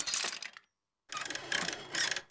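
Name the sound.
cuckoo clock mechanism being repaired in cartoon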